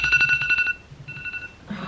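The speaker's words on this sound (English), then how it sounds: "Hang on, my alarm's just gone off." A phone alarm rings in a household kitchen, a rapid pulsing electronic melody of repeated bright tones that stops, then resumes more faintly before a brief burst of noise.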